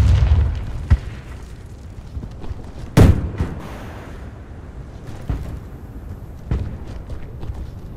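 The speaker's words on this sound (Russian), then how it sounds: "Граната!" A grenade explodes in a Warface match with one loud broadband blast mid-clip, followed by a few more sharp bangs and thuds under a low rumbling background.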